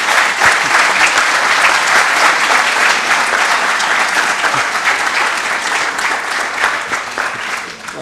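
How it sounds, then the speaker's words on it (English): An audience gives a sustained round of applause after a conference talk at the XVI SINFO event, dense steady clapping filling the room for about eight seconds before tapering slightly at the end. "Round of applause."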